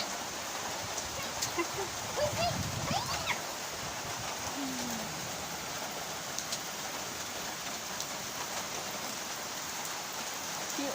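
Rain falls on flowers outdoors as a soft, steady patter, faint and continuous with no voices.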